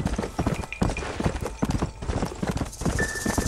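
Horse hooves clip-clop steadily and close by in the video game Red Dead Redemption, forming a loud, fast rhythmic gait, with a faint whinny-like tone near the end.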